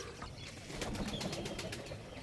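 Pigeons in a loft coo and rustle close by, a short soft burst of calls with some wing flutter, no talk.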